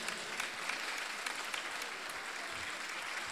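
Audience applause at the opening ceremony of the 11th Bursa International Photography Festival: steady, dense clapping from a seated crowd, moderately distant and fairly quiet, continuing evenly for a few seconds.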